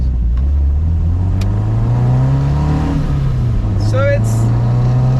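A car engine revs through its exhaust in one loud, rising and falling blast, with a deep droning rumble that sweeps upward and then settles, while a voice speaks briefly near the end.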